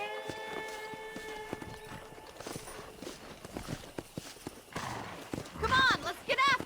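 Horse hooves clip-clop in a steady trot in Red Dead Redemption, over a busy game soundscape with music, and a horse whinnies near the end.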